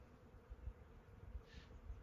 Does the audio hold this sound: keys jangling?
no